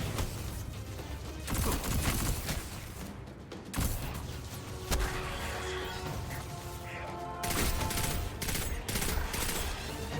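Scout rifle fire in Destiny 2 on Stadia, a dense steady stream of shots and impacts over continuous game sound and music, loud and close throughout.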